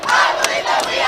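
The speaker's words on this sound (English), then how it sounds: "the I believe that we have won chant is going crazy" Indiana high school boys basketball fans chant "I believe that we have won" together, a brief loud burst of massed rhythmic voices with crowd roar underneath.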